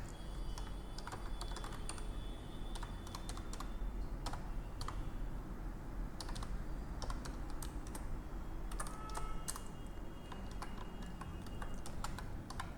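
Steady typing of numbers into an Excel spreadsheet on a computer keyboard, with dense, continuous key clicks over a constant low background hum and no talking.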